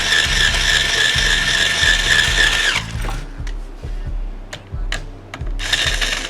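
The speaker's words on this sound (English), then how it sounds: "it's a little harder with my string winder sometimes on a bass" A string winder cranks a bass guitar tuning peg, giving a close, rhythmic ratcheting clicks with a few sharp ticks, under a steady hiss that cuts off partway through.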